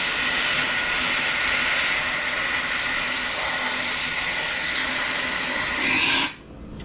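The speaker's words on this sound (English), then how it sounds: "I'll just blow the tank out" Compressed air blasting into the fuel tank of a Briggs & Stratton lawn mower, a loud, steady high hiss held for about six seconds before it cuts off abruptly into quiet.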